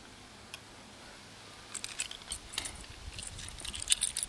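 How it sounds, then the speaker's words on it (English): Keys jangling softly nearby, a faint metallic clinking that starts after a quiet moment and continues in small irregular bursts. "Got my keys."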